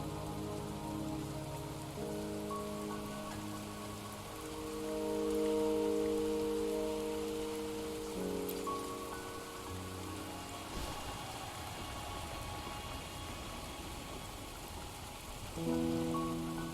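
Steady rain falling in the video game Wuthering Waves, a continuous hiss of drops on surfaces under sustained soft music tones, with no talking.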